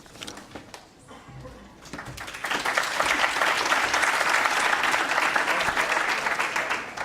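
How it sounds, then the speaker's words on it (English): An audience at a conference plenary session applauds, starting as scattered claps and swelling into loud, sustained clapping for several seconds. "I'm always worried when there's applause before I've said anything"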